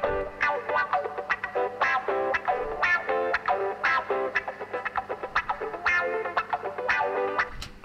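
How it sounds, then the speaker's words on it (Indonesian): An electric guitar in a church band mix, treated with room reverb and a distorted, chorused tone, plays rhythmic strummed chords in steady repeated bursts, alone and fairly loud. "Karena kurang reverb, gua kasih room reverb."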